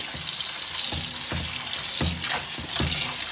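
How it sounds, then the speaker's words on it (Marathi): Fresh fenugreek (methi) leaves get washed in water to remove soil, with close sloshing and splashing in repeated swishes, no speech. "चांगली धुवून घ्यायची, माती असते ना त्याच्यामध्ये।"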